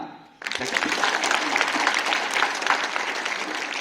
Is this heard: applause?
yes